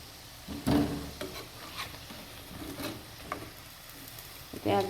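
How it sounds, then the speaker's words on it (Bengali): A sweet snack fries slowly in oil, a soft, steady sizzle under several distinct clacks and scrapes from a utensil, some louder near the start and end. "এই তো ভাজতেছি, হয়ে গেছে প্রায়।"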